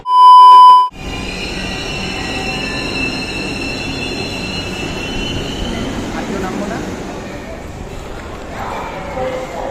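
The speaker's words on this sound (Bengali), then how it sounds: "ট্রেনটির গন্তব্যস্থল মতিঝিল, পরের স্টেশন শেওড়াপাড়া।" After a brief loud tone at the start, a Dhaka metro rail train runs toward Motijheel with a steady, close rumble and high wheel squeals drawn out across the ride.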